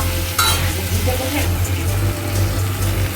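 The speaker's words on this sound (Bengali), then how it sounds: "হলুদ দিয়ে হলুদটা সবজির সাথে ভালো করে একটু মিক্স করে নেড়ে চেড়ে নিচ্ছে" Vegetables with turmeric are stirred in a hot pan, making a steady sizzle with scraping and rustling stir strokes over a low continuous hum.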